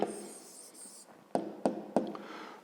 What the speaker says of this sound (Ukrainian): Ну, а тепер записуємо відповідь. Пишемо відповідь.